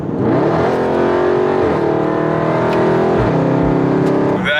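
A Dodge Charger engine revs hard and loud up close, rising and falling through several throttle pulls with a deep rumbling exhaust and no voices.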